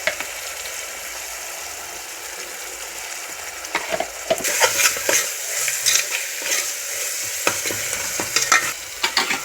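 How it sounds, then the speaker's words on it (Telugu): Mutton frying with tomato and turmeric in a pan while being stirred, a steady sizzle with louder scraping and clattering stir strokes through the second half, close and alone. "ఇప్పుడు మటన్ వేసుకున్నాం. కొంచెం పసుపు వేసుకుందాం."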